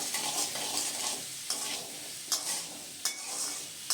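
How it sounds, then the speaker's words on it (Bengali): Potato pieces tossed with salt and turmeric in an oiled pan, gently sizzling while a spoon scrapes and stirs in a few distinct strokes, close and without speech. "এবারে আলুটাকে খুব সুন্দর করে নেড়েচেড়ে নিয়ে মিশিয়ে নেব।"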